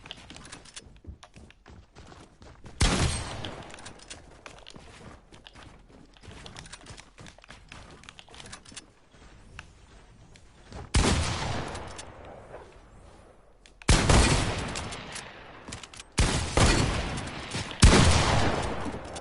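Tommy Gun fire in a video game, loud close bursts of rapid automatic shots at intervals over quieter game background noise.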